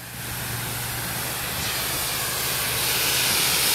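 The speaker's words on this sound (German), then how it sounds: "Jetzt Sprühstrahl." Fire hose hollow-jet nozzle spraying water in spray mode, a loud continuous hiss and rush that slowly swells in strength and runs unbroken with no voices.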